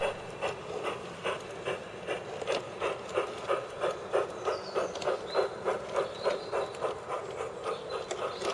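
Rhythmic mechanical chugging of a steam train, steady repeated beats with a faint whistle-like tone midway, no voices.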